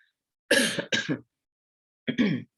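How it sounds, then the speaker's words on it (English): Throat clearing and coughing, close and fairly loud: a two-part rough burst, a pause, then one more short cough. "sorry, got my cough"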